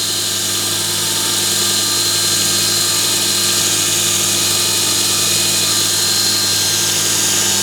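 Pro Edge sharpening system polishing a blade bevel, a steady, loud, continuous motor whine with a faint abrasive hiss throughout, no talking.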